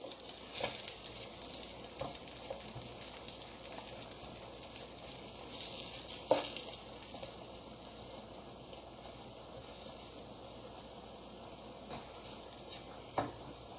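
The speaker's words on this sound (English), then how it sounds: "you kind of just want to let it fry, get a little crispy." Vegan chicken and sausage pieces fry in a pan, making a continuous gentle sizzle and crackle with occasional louder pops and scrapes, close and unaccompanied by speech.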